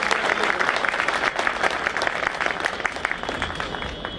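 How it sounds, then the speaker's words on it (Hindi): Audience applause at a lawyers' gathering backing their demand, a dense, steady burst of many hands clapping together, loud and sustained throughout. "ये तालियों से इसका समर्थन चाहिए।"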